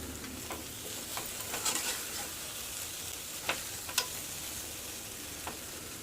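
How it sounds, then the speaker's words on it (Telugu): A spoon stirs green banana fry in a pan, giving soft scattered scrapes and taps over a faint, steady low sizzle, with no talking. "తర్వాత దీన్ని స్పూన్లో ఒకసారి కలుపుకోవాలండి"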